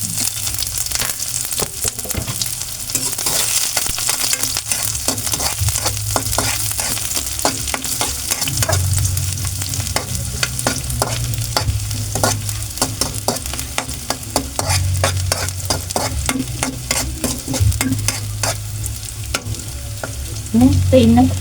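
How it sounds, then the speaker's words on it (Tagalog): Garlic and onion sauté in hot cooking oil for ginisang patola, a steady loud sizzle running throughout, broken by repeated scraping and clacking of a spatula stirring the pan. "mainit na yung ating mantika. Igisa na natin itong ating ricado."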